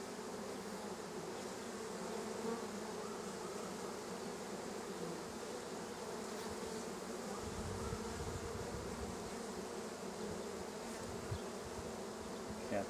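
Honeybees buzz in a steady, dense drone at an open hive during a queen search, continuous and close with no talking.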